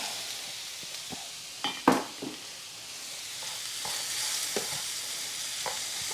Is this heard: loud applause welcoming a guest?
no